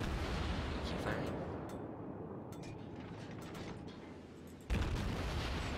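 Deep rumbling naval gunfire from a battleship in World of Warships, one long sustained roar of booming salvos that dips slightly, then a fresh loud blast near the end, with a voice talking underneath.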